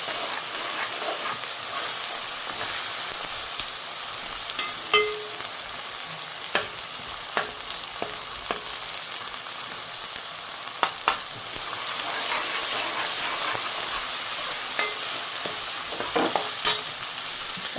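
Bubla vegetable curry with ripened tomatoes fries in a pan while a spoon stirs it, producing a continuous sizzle broken by scattered scraping clicks and taps of the utensil.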